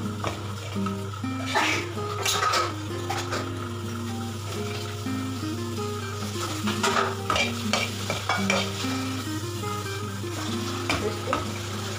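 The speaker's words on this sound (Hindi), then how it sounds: "इसको आँच तेज करके इसको अच्छे से भून लेंगे।" Food being stirred and fried in a pan over high heat, with a steady sizzle and repeated scraping strokes of the spoon against the pan, close and moderately loud, no talk.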